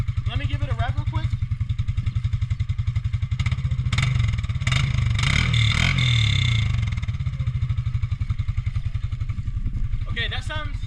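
A Can-Am Outlander 700 ATV engine throbs at a close, steady idle, then revs up briefly and drops back to idle, with a voice heard briefly at the start and end.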